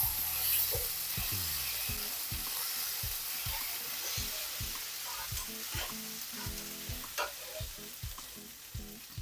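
Ginger garlic paste sizzles and fries in a pan for an eggplant dish, a steady hiss with repeated scraping and tapping of a spoon as it is stirred, close and alone.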